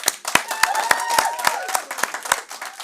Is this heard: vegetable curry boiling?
no